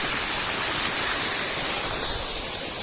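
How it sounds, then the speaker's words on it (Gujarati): A constant, even rush of irrigation water flowing on a farm fills the whole stretch without pause, loud and close. "તો આ પપ્પા છે ને અત્યારે પાણી આવે છે"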